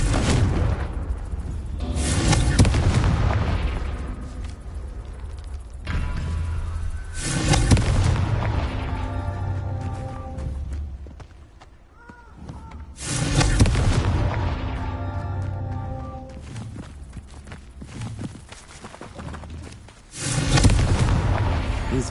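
Confringo fire spells from the Hogwarts Legacy video game burst as a series of loud, booming explosions, each with a heavy rumbling tail, spaced several seconds apart.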